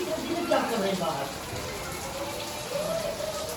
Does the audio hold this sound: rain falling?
yes